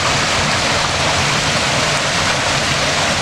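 Water spills from guttering into a dug-out stone pool used as an outdoor natural shower, a loud, steady, close rushing splash with no pauses.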